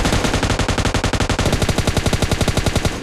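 A loud, continuous burst of M249 machine gun fire in PUBG Mobile rattles at a fast, steady rate for a few seconds, close and unbroken.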